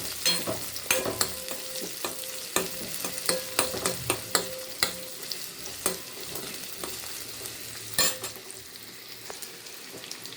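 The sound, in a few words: chopped small onions and dried chillies sautéing in ghee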